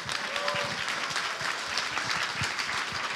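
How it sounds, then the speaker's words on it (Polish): Audience applause at a live book launch in Poland as Dr. Ewa Kurek is welcomed, steady dense clapping throughout with a brief tonal sound early on and a few heavier claps standing out. "Wielkie brawa."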